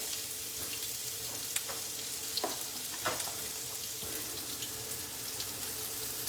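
Onions fry in a skillet with a steady close sizzle and occasional light stirring clicks, no talking.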